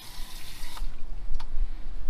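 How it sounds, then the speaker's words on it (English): Water sprayed from a hose onto car wheels, a close, hissing splash with a few sharper spurts and drips, loud and steady with no voices. "So what I do is just put a little bit of soapy water in a bucket and I hose the wheels down."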